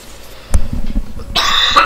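A man coughs close to the microphone, a short low burst followed by a couple of smaller rasping coughs, then a hiss of breath or background noise during a League of Legends gaming session.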